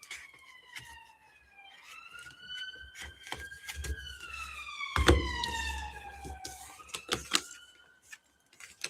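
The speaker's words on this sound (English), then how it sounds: "You hear the sirens?" A police siren wails and rises and falls in pitch, fairly distant, with scattered clicks and faint background noise.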